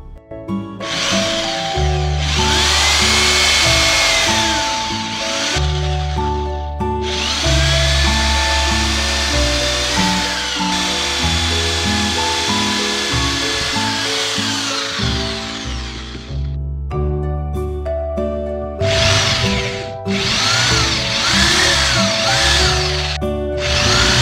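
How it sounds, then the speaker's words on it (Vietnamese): A homemade drill press, driven by a small electric motor, bores screw holes into a base. The high whine runs in long bursts, rising and falling as the bit bites, with short pauses between holes, loud and close with no talk. "mình sẽ khoan cho nó ba cái lỗ ở đây để vít ốc vào, cố định trên cái đế này cho nó chắc chắn hơn"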